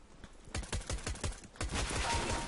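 Rapid gunfire from the game CS:GO rattles in loud, dense bursts, with a pause in the middle and then a sustained burst.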